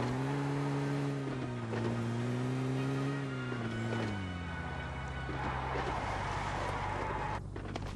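Cars pass by outdoors, an engine drone sweeping up and down in pitch before fading into a steady road rumble with a light hiss layered on top.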